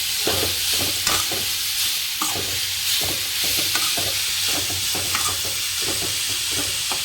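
Beetroot sautés in a pan under a constant sizzle, with brisk, rhythmic scraping strokes of a spoon stirring it again and again, close and loud.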